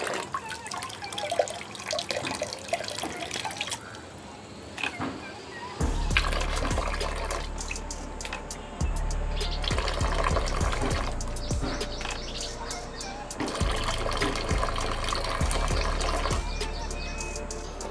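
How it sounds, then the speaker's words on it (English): Water runs from a homemade foot-operated soap and water dispenser, a close steady flow that starts, stops and restarts with clicks and knocks from the mechanism between runs; no talking. "Now we will see how this soap and water dispenser works."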